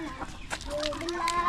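A large turkey on a farm gives short, close, throaty calls in quick bursts, lasting under two seconds.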